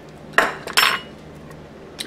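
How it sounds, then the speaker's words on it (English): Utensils clink and scrape in a bowl as salmon is mixed with onion, cucumber and banana pepper, two distinct clattering bursts close by with quiet pauses between. "We're just going to mix up all this wonderful salmon,"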